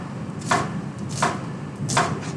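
A knife chopping onion on a cutting board for a stir fry, three separate sharp thuds spaced roughly evenly, close and clear with no talking.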